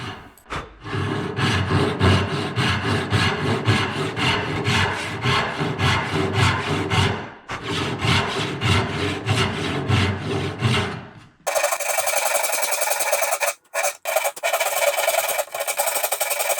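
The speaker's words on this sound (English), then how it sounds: "Cut down all the tail lines with a dovetail saw." A hand dovetail saw rasps through wood along tail lines in steady rhythmic back-and-forth strokes, close and loud, pausing briefly between cuts before a brighter, finer sawing sound takes over near the end.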